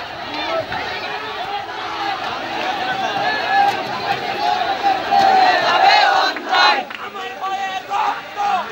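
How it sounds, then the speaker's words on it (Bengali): A crowd of students at a street blockade near the Khulna Road intersection chants protest slogans, a loud, dense mass of shouting voices that swells and surges steadily throughout. "দিচ্ছে প্রতিবাদী স্লোগান"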